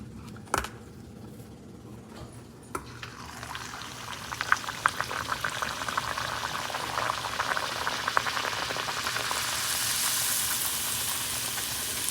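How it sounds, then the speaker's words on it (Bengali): Luchi, rolled puffed flatbreads, frying one by one in hot oil in an iron wok, a steady bubbling sizzle that rises and thickens over time, with a few sharp clatters early on and no talking. "এখন এক এক করে লুচি ভেজে নেব"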